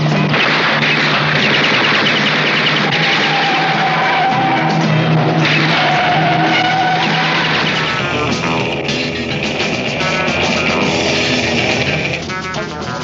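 A sports racing car skidding in a 1960s–1980s grindhouse movie trailer, with loud tire screeches and engine roar buried in a dense, busy mix of crashing effects.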